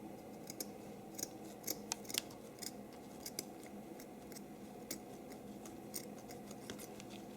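Sharp scissors snip repeatedly through a gift-basket ribbon to cut a V end, a string of crisp close clicks and slices at an uneven pace over a faint steady room hum, with no talking.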